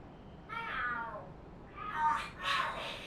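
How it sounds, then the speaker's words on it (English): Cats fight and scream in the video game Lost Judgment: one drawn-out, wavering yowl, then a louder second yowl and two sharp shrieks, fairly close, with no talk over them. "The hell are there cats fighting? What are they screaming for?"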